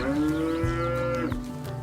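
A dairy cow on a farm gives one long, loud, close moo, a sustained harmonic bellow that shifts pitch midway and trails off, with no other voices around.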